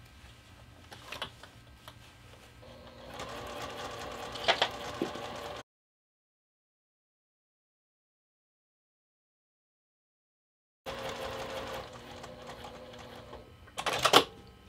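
A sewing machine runs long basting stitches along a bucket bag seam, purring and clattering in two runs broken by a silent gap, with a sharp louder clack near the end.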